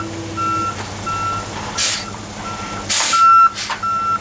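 A truck backs up to drop a load of rock by a pond, its reversing alarm beeping steadily in a repeated pattern over a low diesel idle, with loud hissing air-brake bursts in between.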